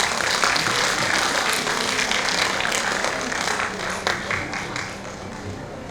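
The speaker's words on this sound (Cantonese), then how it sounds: "俾掌聲" Audience applause at a Mother's Day music concert follows the introduction of a dance troupe, a steady broadband clatter of many hands that stays fairly even throughout, with faint voices underneath.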